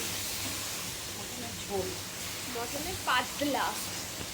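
Mutton being fried with spices for a thin Bengali mutton curry gives a steady, close sizzle and hiss throughout, while someone talks quietly over it partway through.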